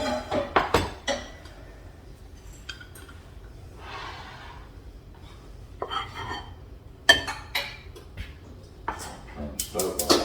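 A pot of beans shifted around a kitchen while camp-style dinner is made, with scattered clinks and clatters of pots and dishes, a few sharp knocks among softer handling noise.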